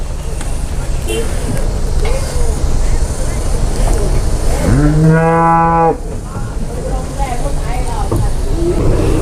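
A single long, loud cow moo rises and holds for about a second amid steady background noise and rumble.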